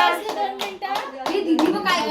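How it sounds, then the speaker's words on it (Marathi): Several people clap their hands together at a child's bor-nahan celebration at home, steady claps running under lively overlapping voices, including a child's, that dominate throughout. "सगळे टाळ्या वाजवा"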